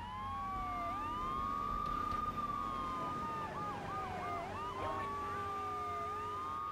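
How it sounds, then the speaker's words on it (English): A police siren in Grand Theft Auto 3: The Definitive Edition wails continuously up close, its pitch sweeping up and down, then switching to a fast yelping pattern before returning to the long wail. "I don't even know how to turn the sirens off."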